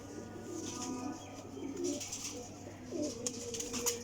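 Pigeons coo softly in throaty, repeated murmurs, several birds close together, with faint chirps and light background noise.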